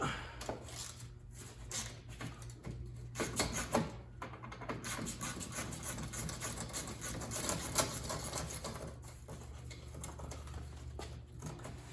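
A 10 mm socket wrench loosens the skid plate bolts on a 2011 AWD Dodge Charger, producing faint, rapid ratcheting clicks in uneven runs, quiet and close.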